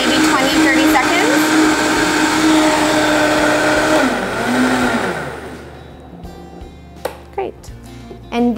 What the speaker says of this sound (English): then we're gonna blend. You wanna blend maybe 20, 30 seconds.